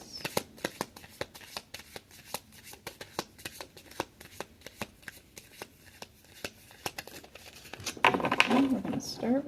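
Oracle cards riffle and slap in a quick, steady run of close shuffles, followed near the end by a denser burst of crinkling, sliding card handling.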